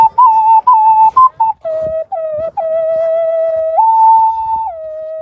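A pre-Hispanic clay flute plays a clear, loud whistling line: short stepped notes at first, then longer sustained tones that jump up and back down, close and alone.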